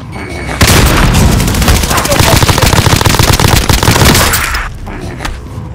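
A frag grenade explosion in Call of Duty: Warzone sets off a loud, sustained crackling roar of rapid blasts that fills several seconds before cutting off abruptly.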